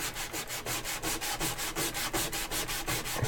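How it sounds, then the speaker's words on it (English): Sandpaper rubbed by hand across a flat glass construct, a steady rhythmic scratching with quick back-and-forth strokes repeating close up, with no talking. "sometimes you just gotta come in with some sandpaper and"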